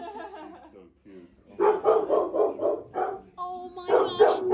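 Shelter puppies yip and bark in quick repeated bursts, high and close, with soft whimpers at the start and a voice speaking among them.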